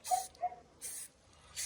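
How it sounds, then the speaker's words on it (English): A dog barks and yips inside a house, heard faintly from a distance as a few short high yelps separated by quiet gaps. "my dog's barking in the house"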